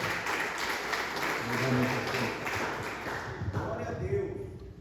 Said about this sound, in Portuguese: Receba o pastor com as palmas de vitória.